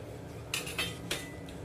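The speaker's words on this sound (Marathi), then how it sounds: "मी इथे सुरीचा वापर करते तर हे असं सुरीनं कापायचं आहे" Knife cutting through kokum fruit on a hard surface, giving a few sharp, close clicks and taps spaced apart against a quiet background.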